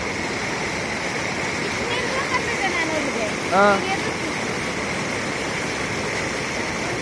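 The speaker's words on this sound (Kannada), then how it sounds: "ಫೋರ್ಸ್ ನೀರು ಫೋರ್ಸ್ಗೆ ಆ ಕಡೆ ಹೋಗ್ತದೆ ಮಿಡ್ಲಲ್ಲಿ" Forceful water pours over a waterfall in a loud, continuous roar filling the whole scene, while a person nearby speaks briefly.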